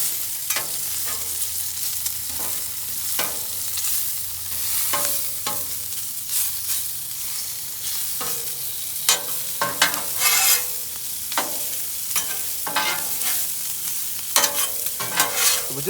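Bacon and onions fry on a Blackstone flat-top griddle, with a steady loud sizzle throughout and frequent scraping and stirring strokes of a spatula across the hot surface.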